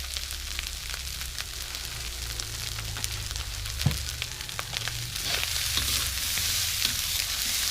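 Rice stir-fried with fiery chili paste in a pan for an Isan-style dish, a steady close sizzle and hiss with occasional scraping and stirring clicks, growing slightly louder toward the end.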